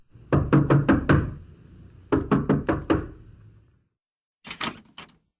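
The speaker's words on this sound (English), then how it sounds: "went to the house and knocked on the door" Knocking on a wooden house door as a sound effect: three bursts of four or five sharp, evenly spaced raps, close and crisp, separated by short silences, with no talking.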